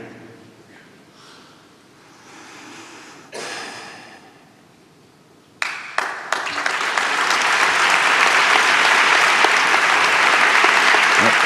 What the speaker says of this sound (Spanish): Solo ha dicho su nombre y ya un fuerte aplauso para el pregonero.